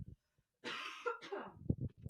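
A single harsh cough, close and fairly quiet, breaks into a couple of rough bursts before faint murmuring follows.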